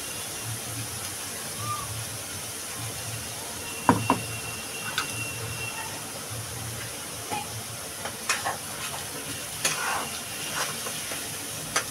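Spice paste being stir-fried in a pan for a pea and mushroom curry gives a steady low sizzle with scattered spatula scrapes and clicks, fairly quiet and close, with no talking.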